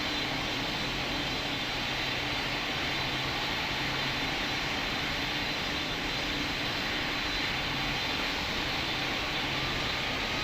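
Airliner taking off in the Roblox game Pilot Training Flight Simulator, a steady loud roar of jet engines filling the whole span, unbroken and without speech.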